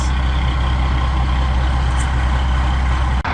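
A John Deere 7810 tractor with a PowerShift transmission runs at a steady idle, its deep low engine drone continuous and close, with wind buffeting throughout.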